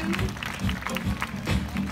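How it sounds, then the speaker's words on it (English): Audience clapping at the Singapore Zoo Night Safari show, a short burst of steady, moderately distant applause with a faint voice mixed in. "Everybody that's here, a big round of applause."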